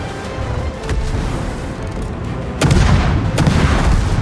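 Anti-aircraft guns on the ship Öland fire in a naval video game: a steady rumble of gunfire builds, then two heavier booming bursts hit close and loud near the end.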